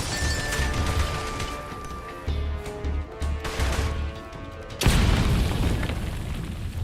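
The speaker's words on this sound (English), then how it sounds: "they use a lot of grenades on her" Grenades explode in Metal Gear Solid Delta: Snake Eater. Low thuds come first, then one sudden loud blast near the end that rolls into a heavy, rumbling roar, with no talking.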